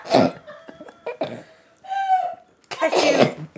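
Voices imitate sneezing in playful bursts, a few sharp explosive fake sneezes and throaty noises separated by short pauses, close and loud.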